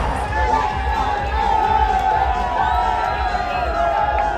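A dense roar of Knicks fans at Madison Square Garden fills the arena, sustained loud cheering and shouting from a large crowd with no break, steady and close throughout.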